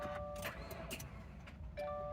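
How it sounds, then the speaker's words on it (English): A 2017 Subaru Forester with a weak battery fails to crank properly, giving only brief clicks and faint electrical whirs in a quiet setting, with no engine catching. "Let's see if we can crank up the engine."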